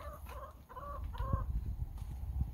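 Several hens in a pen cluck in short bursts close by, with low rustling and a steady background hum.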